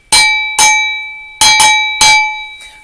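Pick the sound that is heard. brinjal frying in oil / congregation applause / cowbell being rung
cowbell being rung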